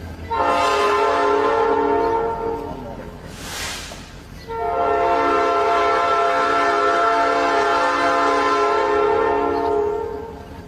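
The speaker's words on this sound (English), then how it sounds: "We should have stopped the train." A train horn blares in long sustained blasts, loud and near, pausing briefly before sounding again, while the rumble of the passing train runs underneath.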